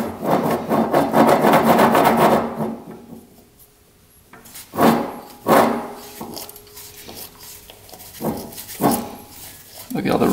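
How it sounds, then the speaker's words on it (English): Rusty, worn ATV wheel bearing turning, with rough scraping grinds in uneven bursts, loud at first, then a lull and several shorter rasping strokes, alongside some speech. "the bearings sound really bad."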